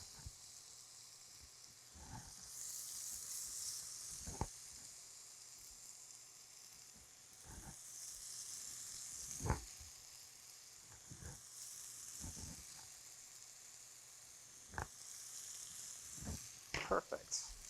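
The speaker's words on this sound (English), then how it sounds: "It's a nice sizzle." Steady sizzling of chicken frying in a hot pan, with occasional sharper crackles and pops rising above the continuous hiss.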